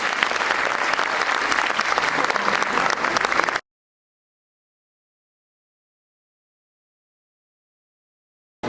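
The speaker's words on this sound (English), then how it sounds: "Please again have a round of applause for their lovely performance" Parents and guests at a preschool class presentation give a round of applause after a children's performance: a thick, even burst of many hands clapping that lasts a few seconds, then cuts off into silence.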